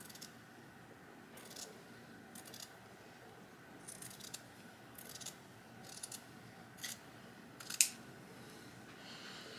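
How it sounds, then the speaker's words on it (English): Scissors snip through drop cloth fabric laid flat on a table, cutting up the center seam to make curtain panels; a series of short, faint cuts with quiet pauses between, no talking. "you want to cut up that center seam"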